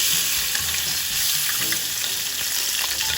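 Chopped onion and garlic frying in hot oil for carbonara sauce, a steady close crackling sizzle with light stirring sounds and no talking.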